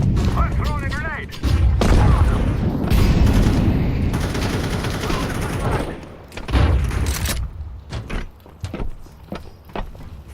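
Loud explosions and bursts of gunfire in a Counter-Strike 2 match, with a heavy blast early on and another later, with crackling shots and clatter trailing off.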